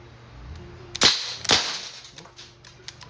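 DPMS Panther Arms SBR airgun rifle firing in semi-auto, two sharp close cracks about half a second apart followed by a few fainter clicks and knocks.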